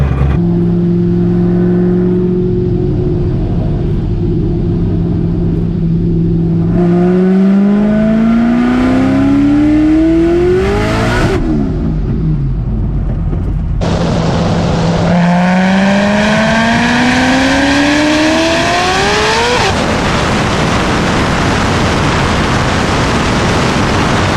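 A ProCharged 441 LSX V8 in a C6 Corvette Z06 idles with a loud, lumpy rumble, then climbs through two rising revs that fall back to idle between them, heard close up.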